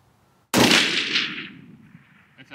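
A single loud rifle shot from a trued-up Remington 700 in 300 PRC fitted with a tuner muzzle brake cracks sharply at an outdoor long-range shooting range, then decays into a long rolling echo.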